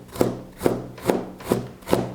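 A knife cuts half a carrot on a board in five evenly spaced, close chops, each a sharp knock with a brief scrape, and no one speaks.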